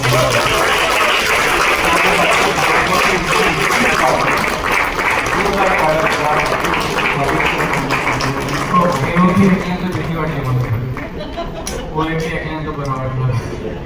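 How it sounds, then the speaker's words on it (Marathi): Loud applause from an audience at a Star Pravah television event, steady clapping filling the room throughout with background tones and some voices mixed in. "त्यांचे मुख्य संतोष पाटील यांच्यासाठी एक जोरदार टाळ्या"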